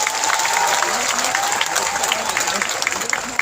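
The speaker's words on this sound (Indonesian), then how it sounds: "sekali lagi saya minta tepuk tangan yang semangat dengan acara sholawatan hari ini" Audience applause at a sholawat religious gathering in Central Java, a sustained wash of clapping with a steady crowd hum and voices beneath it.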